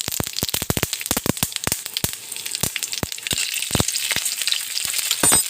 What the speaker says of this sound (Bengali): তেলটা গরম হয়ে গেছে। আমি একটা কাঁচা লঙ্কা আর কালো জিরে ফোড়নে দিয়ে দিলাম